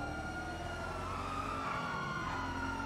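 A wailing police siren in GTA 5 holds a steady, sweeping tone over a continuous low rumble, with no break across the whole stretch.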